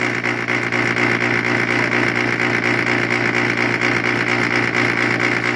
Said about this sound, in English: Look at the compressor just shaking around.